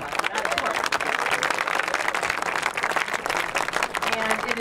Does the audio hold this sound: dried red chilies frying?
no